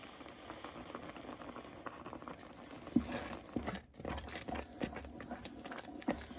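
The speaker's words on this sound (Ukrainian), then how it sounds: "томатний соус вже почав кипіти" Thick apple ketchup with tomato sauce bubbling in a pot, with soft irregular pops and gurgles over a low simmering hiss and a few louder plops.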